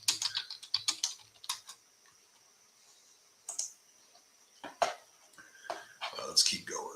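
Keys clatter on a computer keyboard in quick bursts of clicks, loud at first and then sparse, with a pause in the middle before scattered keystrokes return near the end; a person's voice is present alongside.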